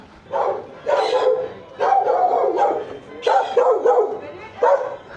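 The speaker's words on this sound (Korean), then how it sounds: "저를 보고 짖는 게 아니고 군인 아저씨 보고 짖는 거 보니까" Several dogs bark at soldiers in a street, loud repeated barks in clustered bursts with short gaps, fairly close by, with no talking.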